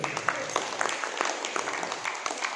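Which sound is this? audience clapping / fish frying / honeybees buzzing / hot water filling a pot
audience clapping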